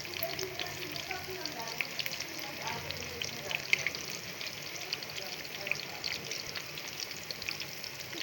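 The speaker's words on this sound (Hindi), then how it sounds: "थोड़ा सा जब तेल हल्का गर्म हो गया तो मैंने चम्मच की मदद से जितनी इसमें स्पेस थी उतने पकौड़े ऐड कर दिए।" Pakoras deep frying in hot oil in a pan, a steady faint bubbling sizzle running throughout with no clear talk.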